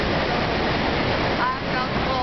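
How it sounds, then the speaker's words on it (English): Niagara Falls pouring in a continuous, dense roar of rushing water, steady and loud throughout, with faint voices and whistle-like tones briefly over it. "Give you a final look at the falls"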